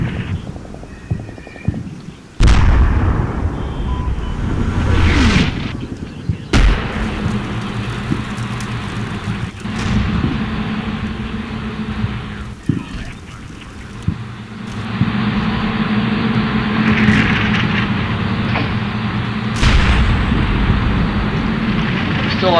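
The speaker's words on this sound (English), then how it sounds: "Still under continuous mortar fire, but it's having little effect." Continuous mortar fire in the video game Combat Mission: Shock Force, with loud sudden explosion bursts spaced several seconds apart over a steady roar of wind, rumble and battlefield noise.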